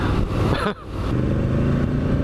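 A Triumph Street Scrambler 900 motorcycle engine runs steadily at close range, a loud continuous rumble with a brief dip partway through before the engine note returns.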